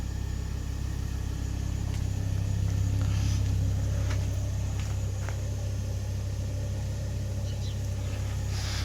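Steady low engine rumble from a Ford Focus, loud and continuous as the car pulls away, with a faint rise in engine note and no clear voices.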